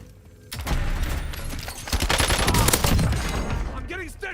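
Gunfire striking the player in the Warzone video game, dense rapid bursts of shots starting abruptly and building into a sustained close, loud fusillade, with a voice speaking briefly near the end.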